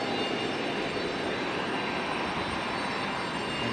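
Jet aircraft engine roaring at Raleigh Durham International Airport near an Air Canada jetway, a loud broad continuous whine and rumble holding steady throughout, with no talk.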